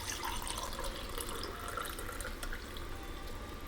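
Mutton stock poured into a pot for biryani, a soft continuous trickle and splash of liquid heard close and quiet, with no talking.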